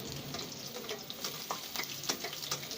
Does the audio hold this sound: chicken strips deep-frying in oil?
yes